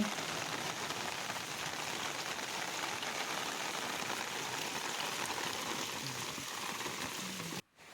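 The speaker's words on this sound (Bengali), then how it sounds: "শসা পারতে না পারতেই শুরু হয়ে গেল আবার বৃষ্টি।" Steady rain pours down over a village, a dense, continuous patter on surfaces that holds evenly throughout and cuts off abruptly just before the end.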